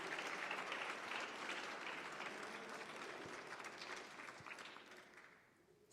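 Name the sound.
congregation applause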